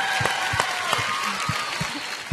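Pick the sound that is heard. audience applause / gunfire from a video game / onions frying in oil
audience applause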